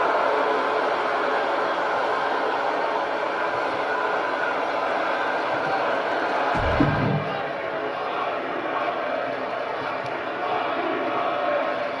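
A large arena crowd at a professional wrestling show roars steadily and loudly throughout, a continuous dense wash of cheering with a brief low thump midway.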